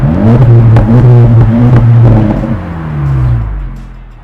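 A 2024 Acura Integra Type S with triple outlet exhaust tips rumbling and revving up close, a loud throaty drone that dips and swells with throttle changes.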